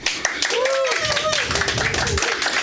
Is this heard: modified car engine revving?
no